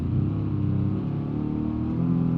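A car engine in a BeamNG.drive video game race, revving loud and steady with a dense droning growl that holds throughout.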